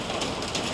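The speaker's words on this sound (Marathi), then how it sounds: "आमचं टॅरेसवरती पत्रा असल्यामुळे पाऊस पडतोय, तर मग आवाज खूप येतो" Heavy rain drums on a metal sheet terrace roof in a dense, loud, continuous patter that fills the whole moment.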